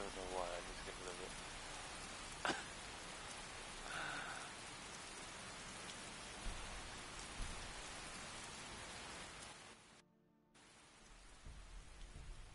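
Steady hiss of modded rain pouring in the video game Skyrim, a constant wash of falling drops with faint game sounds, briefly cut out near the end.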